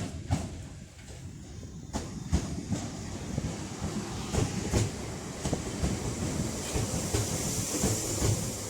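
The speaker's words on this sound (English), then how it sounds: "there is a Northern 323 coming in from, I think, Crewe" A Northern Class 323 electric train pulls into Manchester Piccadilly station, with steady rumbling wheels and repeated clicking over rail joints, heard from the platform at moderate distance.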